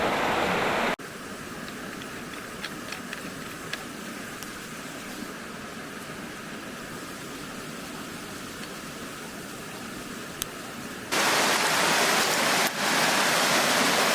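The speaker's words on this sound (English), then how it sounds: "I've got the waterfall coming in here" A waterfall in Glencoe in the Scottish Highlands rushes as a steady broadband roar. It is continuous and moderately loud, with no talk, and swells louder near the end as if heard from closer.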